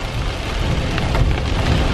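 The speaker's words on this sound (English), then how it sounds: "it is raining, thundering and lightning a little bit too" Heavy rain pours steadily in a dense, loud hiss with a low rumble of thunder rolling underneath throughout, no voices present.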